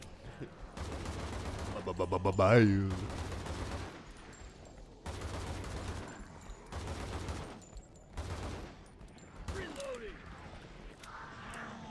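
Rapid gunfire bursts from a video game, loud and dense for the first few seconds, then scattered shots and effects with intermittent voices over the action.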